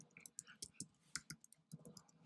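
Light clicking keystrokes tap on a computer keyboard, soft and close, in an irregular quick rhythm of short presses, quiet and on their own with no voices.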